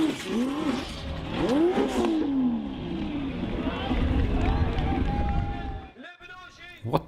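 An off-road sand hill-climb car engine roars and revs hard under loud talking, the pitch rising and falling with throttle modulation, before easing off near the end.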